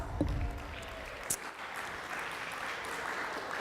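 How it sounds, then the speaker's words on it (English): Applause from a sports banquet audience for the SICAC table tennis girls, a steady broad wash of clapping across the room with a brief louder burst near the start. "SICAC table tennis girls. Can we give them a big round of applause?"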